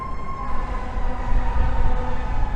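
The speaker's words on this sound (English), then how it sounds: "I got some sirens coming down the street." A siren wails steadily in the distance over low traffic rumble, its tone holding and slowly sliding as it moves along the street.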